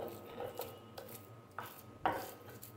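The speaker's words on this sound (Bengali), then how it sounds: "রসুনটা আর পেঁয়াজটা একটু হালকা বেটে নিব" Onion and garlic are lightly mashed by hand, with soft scraping and rubbing strokes and small knocks against a utensil at an uneven pace, quiet and close.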